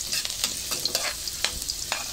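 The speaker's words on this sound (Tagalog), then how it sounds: "naririnig nyo po yung ilansik ng mantika" Garlic sautéing in hot, sizzling oil in a pan makes a bright, continuous crackle close up, with several sharper spits and pops along the way.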